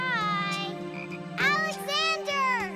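Cartoon frogs croak in a race, a series of loud, bouncy, rising-and-falling croaks close up, coming in bursts over a steady low hum.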